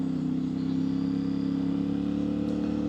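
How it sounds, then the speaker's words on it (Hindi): A CFMOTO 450MT IBEX adventure motorcycle on its original exhaust idles nearby with a steady, even low throb and a fast regular pulse, unchanged across the short stretch, with no talking. "साउंड कमाल का है, कमाल का साउंड है। यानी ओरिजिनल एग्जॉस्ट के साथ इतना आउट क्लास साउंड।"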